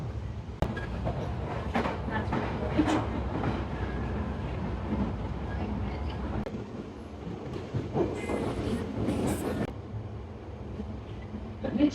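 A London Underground train nearing Cockfosters rumbles and rattles along the tracks, a steady loud roar with rhythmic clacking and occasional brief squeals.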